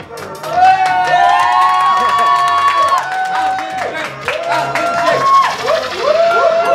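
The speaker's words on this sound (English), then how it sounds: "Round of applause!" A crowd at the opening of a UK sight-reading tournament cheers and applauds with loud, sustained shouts and whoops that fill the whole stretch, voices rising over one another.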